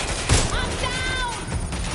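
Rapid gunfire bursts in the video game Watch Dogs: Legion, a loud fusillade of shots over dense battle noise, with a voice shouting through the chaos.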